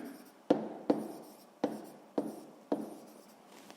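A pen or chalk writes down a floor area in a classroom math lesson, making a series of sharp, close taps and scratchy strokes at an uneven rhythm, with no talk over them.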